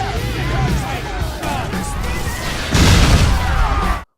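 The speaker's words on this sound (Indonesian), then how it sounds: "membuat kebakaran dan terjadi ledakan dahsyat" A violent explosion and fire in a film, set off when a dropped cigarette ignites a motorcycle: a dense, roaring rumble of flames and debris that surges into a louder, heavier blast near the end, then cuts off abruptly.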